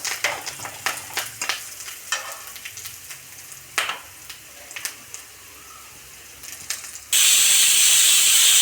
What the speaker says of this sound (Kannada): ಇವಾಗ ಒಂದು ವಿಸಿಲ್ ಬಂದಿದೆ